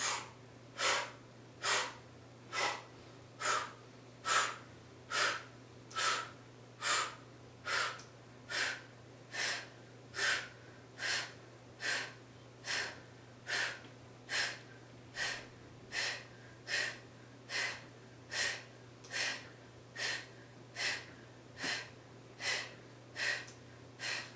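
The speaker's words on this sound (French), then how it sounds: "Et je souffle." Heavy, forceful exhalations during a seated chair exercise come in a steady, evenly spaced rhythm, roughly thirty short puffs over a faint constant hum, with no talking.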